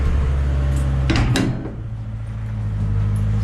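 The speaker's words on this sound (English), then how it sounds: "close the door here." A horse trailer door swings shut with a couple of quick, heavy thuds and a rattle near the middle, over a constant low mechanical hum that carries on alone afterward.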